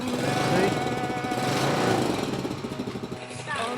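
A small engine on a homestead machine idles steadily nearby, a continuous rough drone with a slight dip in level toward the end.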